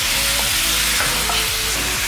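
Chicken pieces frying in oil in a karahi for a Pakistani dish give a loud, steady sizzle, broken by repeated scraping stirs of the pan, with no voices.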